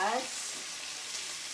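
Bacon frying in a pan in a home kitchen gives a steady, soft sizzle with a brief clatter at the start, heard alone without talk.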